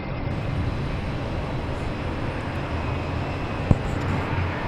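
A JetBlue airliner comes in to land at Boston Logan Airport, its broad engine roar steady and moderately distant, with a brief sharp knock partway through.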